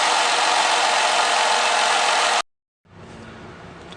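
A 2010 Ford Fusion with a 3.0L engine idles after a tune-up, a steady, even hum that cuts out abruptly into a short silence before returning at a lower, quieter level.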